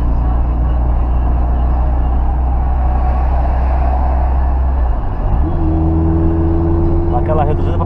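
Exhaust of a Volkswagen Gol, a boxy hatchback driven on a highway, drones steadily and loudly under a person talking, then its pitch climbs as the car accelerates near the end.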